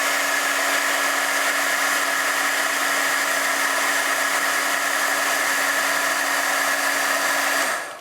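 A heat tool blows steadily while embossing powder is heated on a Christmas card, giving a loud, even whirring hiss with a constant hum that runs unbroken for several seconds and then cuts off abruptly at the end.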